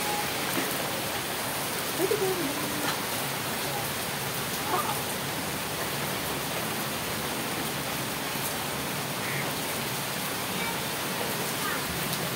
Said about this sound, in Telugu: అనుకోని అతిథిలాగా వచ్చేసిందండి వర్షం ఒక్కసారి.